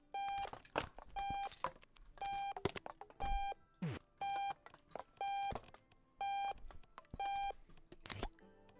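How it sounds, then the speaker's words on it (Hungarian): Alarm clock in the Octodad video game beeping in short regular bursts, about a dozen evenly spaced electronic pips, with clattering game noises and thumps between them. "Először is leállítjuk ezt a rohadt ébresztőt."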